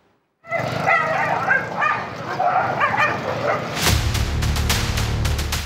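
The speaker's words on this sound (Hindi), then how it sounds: "लड़ते झगड़ते इन कुत्तों ने लाड़काना में नन्हे भुट्टो को काट लिया" Stray dogs bark, yip and whimper close by as they fight in a Pakistani town, a chaotic run of overlapping bursts that later gives way to a harsher, noisier stretch.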